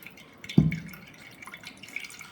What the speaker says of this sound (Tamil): இப்போ இதில் இன்னும் கொஞ்சம் நல்லா கொஞ்சம் வாட்டரை ஆட் பண்ணிக்கிறீங்க